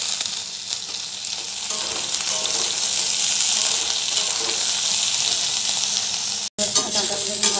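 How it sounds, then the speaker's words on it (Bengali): Drumstick stalks fry in a pan of hot oil with tempering spices, giving a loud, continuous close-up sizzle that holds steady throughout, apart from one brief dropout near the end. "ডাঁটাগুলো একটু হালকা ভেজে নেব"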